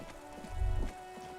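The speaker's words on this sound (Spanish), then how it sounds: "Está lloviendo otra vez." Steady rain patters on surfaces in the video game Disco Elysium, a soft continuous wash with a brief low rumble swelling in the middle, no voices.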